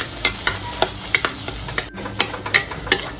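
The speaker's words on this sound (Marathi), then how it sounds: "आलं आणि लसूणची पेस्ट टाकून घेऊ चांगला तूप सुटेपर्यंत परतूया" Ginger-garlic paste with onion sautéed in ghee, the pan sizzling steadily while a spoon scrapes and taps at irregular intervals, close and fairly loud with no talking.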